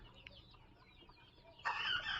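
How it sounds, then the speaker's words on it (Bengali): Young chicks in a coop on a small poultry farm peep and cluck faintly at first, then a louder burst of bird calls rises near the end. "এই আমাদের মুরগির বাচ্চাগুলো দেখেন আলহামদুলিল্লাহ খুব সুন্দরভাবে বড় হচ্ছে"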